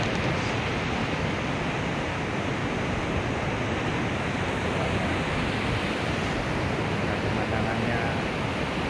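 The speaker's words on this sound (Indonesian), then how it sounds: "Ini guys, suasana pantainya, guys." Waves washing steadily onto a beach at the tip of Alek Setari shore, a continuous broadband surf wash with wind noise on the microphone, loud and even throughout with no distinct breaks.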